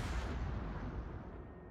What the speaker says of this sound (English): He's shooting HE at you.